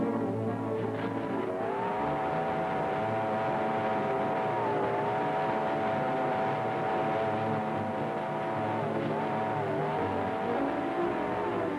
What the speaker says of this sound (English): They follow in Stuff's ancient car